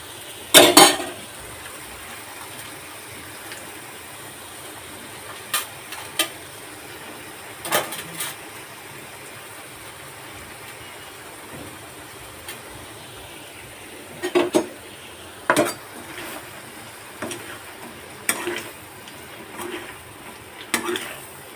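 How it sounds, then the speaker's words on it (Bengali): Shrimp fry in a pan over low heat while being stirred, giving scattered metallic clinks and scrapes of a utensil over a faint, steady sizzle, with a little talking. "এটা কিন্তু একদম তাপ কমিয়ে দিতে হবে, কারণ এটা আমি ভাজা করছি চিংড়ি মাছ দিয়ে।"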